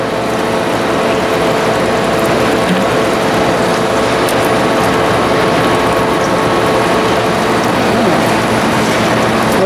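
Vincent screw press running at 18 RPM pressing egg layer manure: a continuous loud mechanical grinding with ratcheting, rattling texture, steady throughout and close, with no voices.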